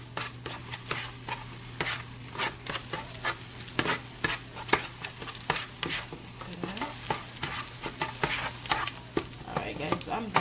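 Eggs being stirred in a hot pan for shrimp fried rice, quick repeated utensil scrapes and taps over a soft sizzle and a constant low hum, fairly faint and close.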